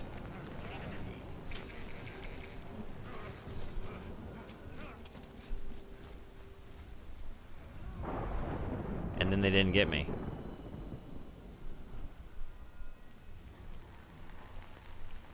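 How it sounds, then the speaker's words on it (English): Steady rain patters in the video game Death Stranding, a continuous hiss with a louder rush around the middle, under intermittent talk. "Good thing it was raining."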